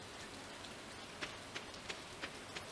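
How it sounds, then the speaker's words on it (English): Rain falling in a video game, a dense steady patter with a few crisp droplet splashes popping out at regular intervals, fairly close and with no voices over it. "A warm rain is a pleasant way to get clean."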